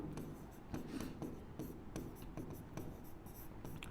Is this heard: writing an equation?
yes